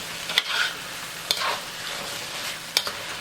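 Char kway teow noodles stir-frying in a wok, a steady sizzle with a few sharp scrapes or clanks of a utensil against the pan spaced through it.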